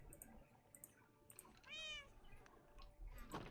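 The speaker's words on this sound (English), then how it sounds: "The cats are in sync." Minecraft cats meowing in the video game, a faint rising and falling meow in the middle of a quiet game soundscape with soft background noise and no talk.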